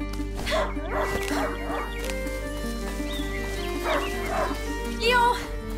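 A hunting dog in A Plague Tale: Innocence barks in several clear bursts with short yips between them, over a low sustained musical drone.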